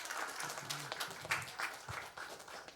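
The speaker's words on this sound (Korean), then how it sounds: "박수하겠습니다" An audience at a church youth conference gives a dense, steady round of applause that sounds somewhat distant and soft, with faint voices mixed in.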